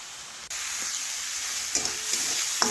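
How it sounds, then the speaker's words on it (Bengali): Food being stirred and fried in a pan while its water cooks off, a steady close sizzle and hiss with a few soft scrapes of the spoon toward the end. "তো আবার একটু জাল দিয়ে নাড়াচাড়া করে নিচ্ছি, তাহলে জলটা শুকিয়ে যাবে।"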